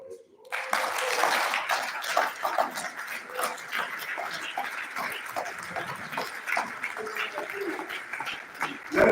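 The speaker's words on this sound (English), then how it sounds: "Let's keep the applause going." Applause from an audience at a book launch and fundraiser fills the room, a steady, dense clatter of clapping that carries on throughout at moderate loudness.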